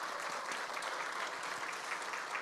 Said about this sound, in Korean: 박수로 우리 수고하셨다고 이렇게